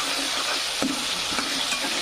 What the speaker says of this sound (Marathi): टमाट्याला पण चांगलं फ्राय होऊ द्यायचं